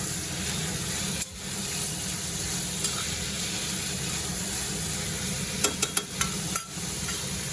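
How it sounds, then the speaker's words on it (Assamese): Dried chilies fry in hot oil with a steady, even sizzle and a few sharp pops and scraping clicks of stirring near the end. "এতিয়া বঢ়িয়াকৈ শুকান জলকীয়া মাটিতে ভাজি দিম"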